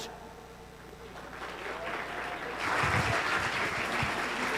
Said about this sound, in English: A big round of applause for the diplomat.